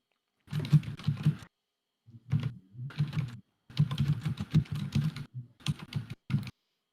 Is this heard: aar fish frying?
no